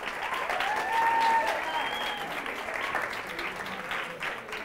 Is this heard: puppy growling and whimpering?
no